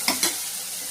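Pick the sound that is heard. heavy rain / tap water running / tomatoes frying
tomatoes frying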